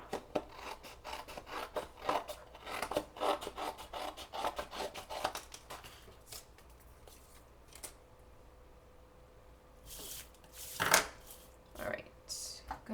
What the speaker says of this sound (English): So, just going to cut this top off